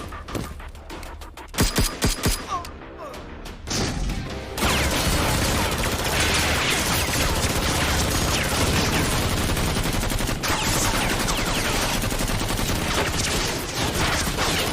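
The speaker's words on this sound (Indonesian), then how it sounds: "Di tengah baku tembak yang sedang berlangsung" Dense gunfire from a film shootout, a few sharp separate shots at first, then a loud, continuous roar of rapid automatic fire and bursts that runs on without pause.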